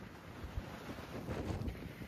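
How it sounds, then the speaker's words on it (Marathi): Wind gusting across a fog-covered mountain trail on the Bhairavgad trek via Shirpunje, buffeting the microphone with low rumbling roar that swells and grows louder toward the end, no voices. "ऐकतं वारा येतो आणि हा नुसता वाऱ्याने इकडं तिकडं असं व्हायला लागलंय"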